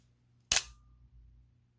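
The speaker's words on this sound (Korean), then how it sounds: "셔터 스피드를 벌브로 하고 오랫동안" A Pentax Spotmatic film camera's shutter fires on the bulb setting. There is one sharp, close mechanical snap with a brief ring, followed by a soft low rumble and then quiet.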